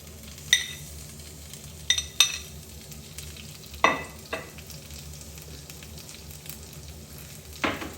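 Courgettes and peppers sizzling steadily in flavoured oil in a pan, with several sharp clinks and scrapes of a utensil stirring them, close up and without talk.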